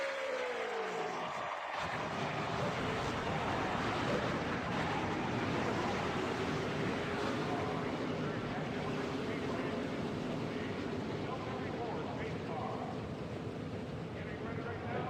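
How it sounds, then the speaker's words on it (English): Race car engines start and settle into a loud, continuous roar at a Super Late Model race at Kentucky, the engines heard close after a brief quieter moment at the start. "Start those engines!"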